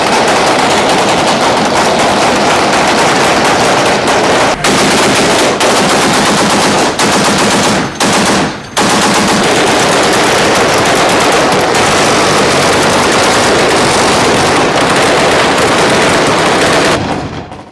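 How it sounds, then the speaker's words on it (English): Sustained machine-gun and rifle fire in a gunfight in Afghanistan, loud and close with dense, rapid bursts, brief pauses near the middle, and continuous crackling shots filling the whole stretch. "It's a gunfight somewhere in Afghanistan."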